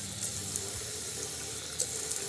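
A bathroom tap runs steadily into a sink to rinse a child's mouth after toothbrushing, a constant close hiss of flowing water with no talk.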